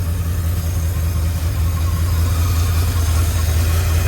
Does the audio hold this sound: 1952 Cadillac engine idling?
yes